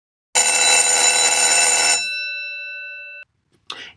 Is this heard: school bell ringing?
yes